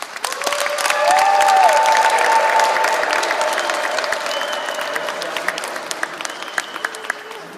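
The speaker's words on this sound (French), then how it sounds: "Je vous demande d'applaudir pour tous les cas encadreurs Kizito Anouari" An audience breaks into sustained applause at a first-anniversary celebration, a dense roll of clapping that swells early and then slowly tapers, with a faint held tone running beneath it.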